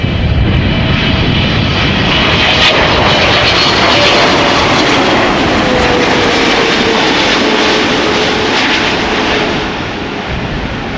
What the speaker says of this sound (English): First up, 777 freighter, China Southern Cargo arriving from Shanghai.